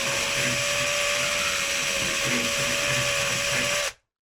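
A power drill bores a rivet hole while fitting a carbon fiber bumper protector, a loud steady high whine close up for about four seconds before stopping abruptly.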